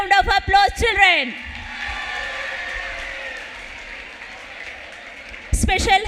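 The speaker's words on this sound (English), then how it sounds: "Give them a good round of applause, children." Children applauding at a school prize-giving day, a broad sustained wash of clapping and crowd noise that fades slightly over several seconds, bracketed by a speaker's voice at the start and end.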